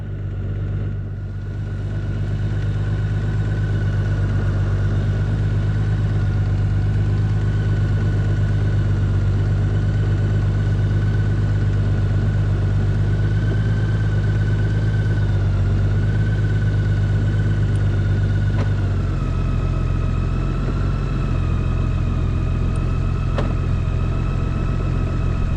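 A Honda Gold Wing motorcycle engine runs steadily at close range, a loud, continuous idle-like drone with a constant hum that shifts slightly in pitch partway through, with no talking.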